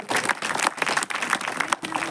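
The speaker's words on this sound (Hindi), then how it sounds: "जोरदार तालियों के साथ इन बच्चों का स्वागत करेंगे आप" An audience at a church gathering claps to welcome children, dense irregular applause lasting a couple of seconds with no voices over it.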